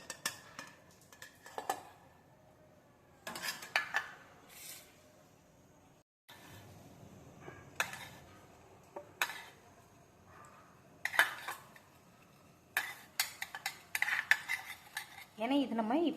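Intermittent clinks and scrapes of a spoon against a mixer jar and metal dishes as baby food is transferred, in short bursts separated by quiet pauses.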